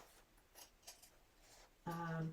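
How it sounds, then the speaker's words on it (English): Scissors clip seam allowances on a curved pocket seam for a quilt coat, giving several soft, quick snips, followed by a brief voiced sound. "clip my seams a little to get the curve to lay right"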